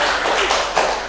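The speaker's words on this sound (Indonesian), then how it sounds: "tepuk tangan dulu buat Feli." Classmates clap together in a classroom to applaud a student, a steady dense patter of many hands running through the whole moment at close range with no talk over it.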